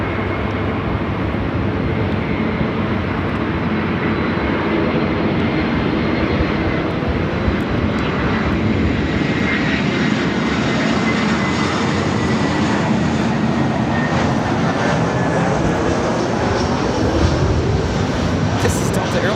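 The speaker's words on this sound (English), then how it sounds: "This is Delta Airlines 2830 coming in from Seattle on the A321." A Delta Airlines A321 arriving at LAX from Seattle, its jet engines giving a loud, sustained roar with a faint whining tone sliding down, steady throughout and close by.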